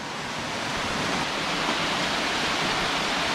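Dense, constant roar of a mountain waterfall on a steep Japanese hiking route, loud and close with no pauses.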